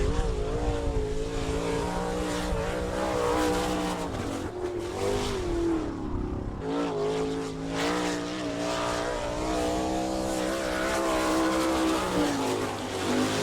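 A sprint car runs a qualifying lap at Attica's All Star Circuit of Champions race, its high-pitched engine droning loudly and steadily with rising and falling pitch throughout, heard alone without talk.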